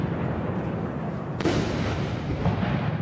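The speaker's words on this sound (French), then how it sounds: "70 coups de canon pour les 70 ans du régime communiste." Artillery cannon salute at a Chinese military parade for the 70th anniversary booms out as a heavy, continuous rumbling roar, with a sharp louder blast partway through and another fainter thump after it.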